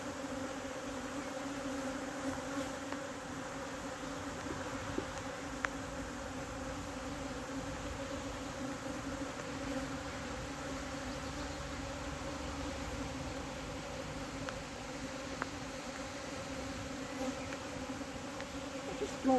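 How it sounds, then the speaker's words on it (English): Steady, dense drone of honeybees buzzing at an active hive during a mid-week swarm, a continuous close hum with no voices over it. "It's an active hive."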